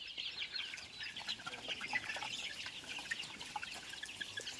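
Local chickens, forty days old, cluck and peep softly outdoors on grass inside a net enclosure, a continuous gentle chatter with no talking.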